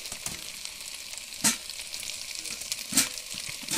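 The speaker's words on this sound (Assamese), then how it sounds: "মাংস ভাজা হৈ গ'ল," Chicken leg pieces fry in a pan, giving a steady crackling sizzle with a few sharper pops and spits, close and alone without any talk.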